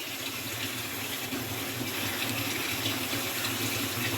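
Water pours steadily into a cooking pot of goat meat curry with papaya and potato, a continuous close splashing gush without pause.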